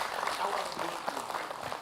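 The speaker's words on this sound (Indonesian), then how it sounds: "Tepuk tangan buat Habib Nabil." A studio audience applauds Habib Nabil on an Islamic television talk show, a brief, fairly soft patter of clapping heard at moderate distance.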